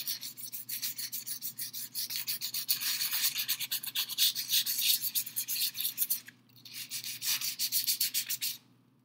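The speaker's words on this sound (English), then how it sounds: "I usually just take sandpaper and just lightly scuff it up" Sandpaper lightly scuffing the wooden centerpiece of a recurve bow grip, a quick steady run of close, rhythmic back-and-forth rubbing strokes with a brief pause near the end.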